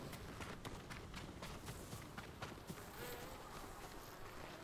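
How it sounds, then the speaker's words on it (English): Bees buzz in the video game Ghost of Tsushima, a dense, steady insect drone among grass that continues throughout alongside soft game ambience. "Were bees in the game before? I don't remember bees."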